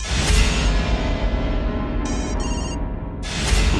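An electronic phone ringtone plays in repeated bursts, loud and close, over steady background noise.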